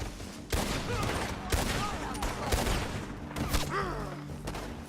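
Rapid gunfire in a Red Dead Redemption 2 shootout, loud repeated shots and thuds cracking across the whole stretch with a dense, steady background of battle noise.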